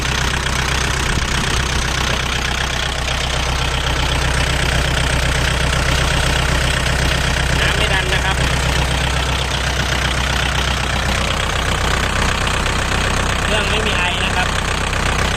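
A 2011 Kubota L4708 DT farm tractor with its original, never-rebuilt diesel engine idles close up with a steady low rumble and fine knocking rhythm, while someone talks over it throughout.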